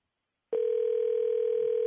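A telephone tone sounds on a county commission conference call, a steady electronic beep that starts abruptly after a short silence and holds constant to the end, with no voices.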